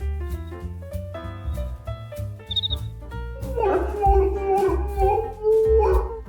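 Along with music, a dog howls in long, wavering, rising and falling notes during the second half, as if singing along.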